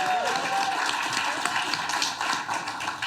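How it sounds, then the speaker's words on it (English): Audience applause at a live comedy show in New York, a dense, loud, continuous clatter of clapping with a few cheers and voices mixed in. "Y'all give Reek another round of applause"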